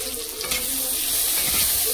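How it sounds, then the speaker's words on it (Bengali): Ground coriander, cumin and chili powder sizzle steadily in hot oil in a pan, a loud continuous frying hiss with soft stirring scrapes, close and without talk. "মশলাটাকে ভালো করে ভেজে নিই"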